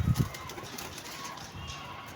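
Pigeons coo softly close by, a couple of low throaty calls at the start, then faint room noise with distant low sounds.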